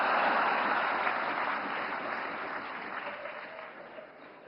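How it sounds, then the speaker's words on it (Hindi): Audience clapping in a hall at a Navkar Mahamantra Divas event at Vigyan Bhawan, New Delhi, a sustained wash of many hands that starts full and slowly fades, heard alone without talk. "नवकार मंत्र के लिए जितनी ताली बजी, उससे ज्यादा जीतों के लिए बज रही है।"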